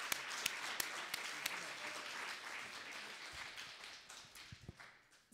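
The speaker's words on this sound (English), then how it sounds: "let's just do a big clap right now" Audience applause at the opening session of a BC seeds gathering, a full round of clapping with sharp individual claps standing out, fading toward the end.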